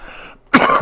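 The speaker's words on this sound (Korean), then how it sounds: "그 기침이 한 2시간 정도 방송을 하고 나면 이제 약간 무리가 되더라고요" A Korean political broadcaster with weak bronchial tubes gives one sharp, close cough during a long live broadcast. It bursts out abruptly after a quiet, low murmur and is followed by a short rasping tail.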